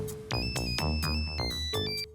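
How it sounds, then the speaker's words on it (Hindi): A mobile phone ringtone plays a bright repeating electronic melody of several quick notes, close and loud, alone for about two seconds. "That's my phone."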